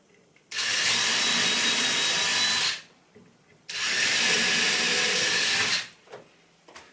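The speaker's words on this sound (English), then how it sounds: "I can drill the rest of the holes" A power drill bores holes into 20mm timber, two sustained, loud high-pitched whirs of about two seconds each with a short gap between, close by, followed by faint handling noises.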